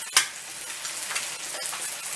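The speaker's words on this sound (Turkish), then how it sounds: "Salamlarımız ve yumurtamız pişerken tavanızın kenarına da füme etimizi atıyoruz." Salami, eggs and smoked meat fry in a pan for a Korean street-food toast. A steady, close sizzle hisses without pause, with a couple of small pops.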